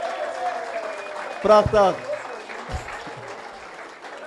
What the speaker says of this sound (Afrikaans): Kom eens even nog een hande klap